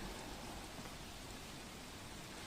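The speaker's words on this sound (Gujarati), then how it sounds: "ગાંધીધામ સહિત આજુબાજુના વિસ્તારમાં ઝરમર વરસાદ સવારથી શરૂ થયો" Steady drizzling rain falls over Gandhidham in Kutch, a continuous soft hiss of fine drops spread evenly across the whole stretch with no pauses and no voices.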